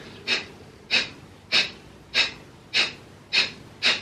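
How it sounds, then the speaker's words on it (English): Breath of fire yoga breathing: seven sharp, forceful nasal exhales repeat in an even rhythm about every half second, close and clear against a quiet room. "expel it through the method called the breaths of fire"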